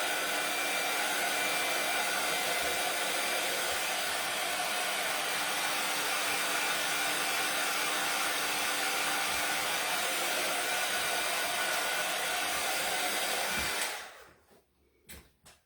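A hair dryer blows steadily and loudly on paint on a Christmas reindeer flower arrangement craft project, a continuous close-up rushing whoosh that cuts off abruptly near the end, leaving brief quiet handling sounds.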